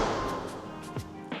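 A heavy interior door slams shut in an energy-efficient new-build Coventry home in Rockwall, Texas, giving one loud, sharp thud followed by a smaller knock over a steady room hiss.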